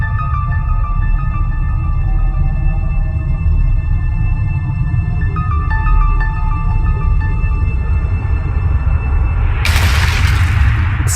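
An asteroid blowing apart in Homeworld Remastered: a sudden loud burst of crackling noise near the end, after a long steady low rumble under sustained tonal music, with no one talking.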